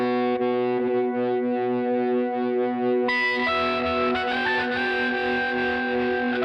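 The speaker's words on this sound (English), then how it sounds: "So it's like the Electro Harmonix freeze pedal." Held synth chord through a Quad Cortex with distortion and a freeze effect, the sustained tone locking into a steady drone, then a new brighter chord layered on top of the frozen sound, loud and alone.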